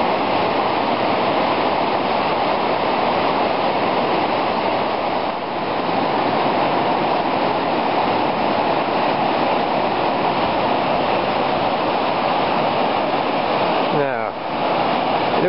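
A wide river in Kashmir rushing over rocks, a loud continuous roar of churning water filling the whole span, steady and unbroken apart from a brief handling noise near the end.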